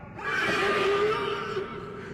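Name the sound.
horse neighing in a film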